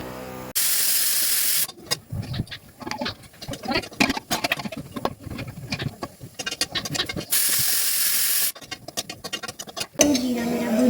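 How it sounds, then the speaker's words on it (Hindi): Cumin seeds roasting in a pan on a gas stove, a steady sizzling hiss broken by crackling patters and stirring scrapes, with two long loud bursts of sizzle and quieter clattering in between. "तो मैं मसाला बनाने के लिए जीरा भून रही हूँ यहाँ पे।"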